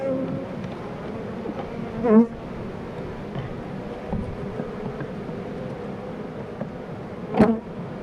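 Honeybees buzz steadily around three hives in a Ukrainian apiary, a continuous low hum with a couple of louder passes of single bees flying close by, and no talking.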